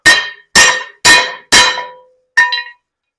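Five sharp metallic hammer blows ring out on a heavy metal plate while fitting a springer front end to a Knucklehead motorcycle frame, four evenly spaced strikes followed by a pause and a lighter fifth hit, each with a bright ringing decay.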